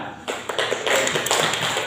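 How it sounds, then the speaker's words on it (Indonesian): A school class claps together, a dense patter of many hands, steady and close, with no talking. "Tepuk tangan."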